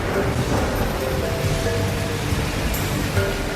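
Heavy, dense torrential rain pours steadily on a New York skyscraper construction site, a constant broadband roar with a low rumble underneath and no voices.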